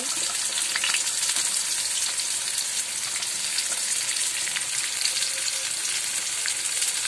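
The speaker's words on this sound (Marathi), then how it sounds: "हे आपलं तेल गरम झालंय, मी आता त्यात कांदा भाजून घेते। कांद्यासोबत मी लसूणही टाकते।" Onion and garlic fry in hot oil with a dense, even hiss that stays loud and close throughout, broken only by faint crackles.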